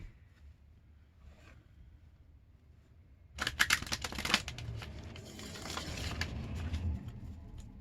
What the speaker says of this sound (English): I'm going to start off with a little shuffle here.